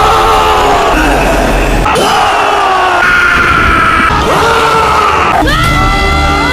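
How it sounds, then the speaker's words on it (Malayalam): Loud, overlapping yells, bellows and screams from the Tamil film Kanguva, with several voices shouting continuously at full volume over a busy, crowded backdrop. "അതും വ്യത്യസ്തമായ അലറലുകൾ."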